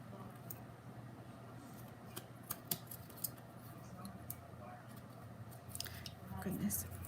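Scissors trimming paper strips off a handmade candy cane striped card give quiet, crisp snips scattered through the clip, with a few sharper cuts, under soft background noise and light handling.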